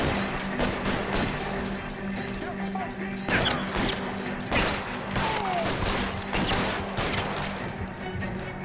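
Gunfire in L.A. Noire rattles in a dense, sustained fusillade of sharp, close shots and crashes, repeated bursts with a voice talking over them.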